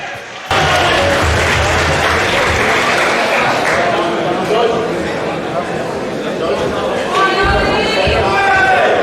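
A fight night crowd roars and applauds as a fighter walks out, a dense, loud wall of cheering and clapping with chatter mixed in throughout.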